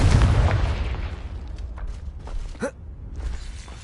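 A Confringo blasting spell in a Hogwarts video game bursts with a loud, broad boom that rumbles and fades over a few seconds, followed by a few scattered softer pops and crackles.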